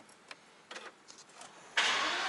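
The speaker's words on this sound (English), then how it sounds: "Alright, start the car, shall we?" A 2021 Aston Martin DBS Superleggera starts up: a few faint clicks and a brief whir, then the engine fires with a sudden loud burst and settles into a steady idle.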